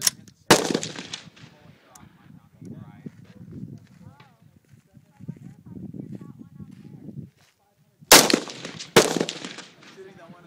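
Gunshots at an outdoor shooting range in California: two loud sharp reports at the start and two more near the end, with people talking in between.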